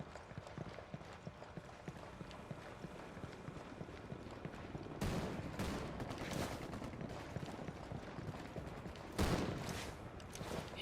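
Rebels' gunfire in Ghost Recon Wildlands, distant bursts and a heavier volley near the middle and end, over steady background noise with no talk.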